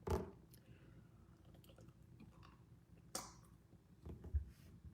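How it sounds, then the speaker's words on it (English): Someone chewing dried mango close up, with a few soft wet bites and squishy chews spread unevenly over a few quiet seconds. "Somebody's going to be annoyed by my chewing."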